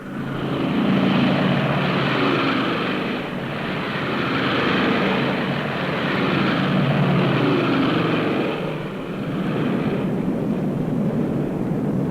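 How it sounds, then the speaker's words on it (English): A large formation of British heavy bombers flies over on an August 1943 night raid on Peenemünde, a continuous loud drone of propeller aircraft engines rising and falling in waves, with no voices. "300 British heavy bombers took to the air."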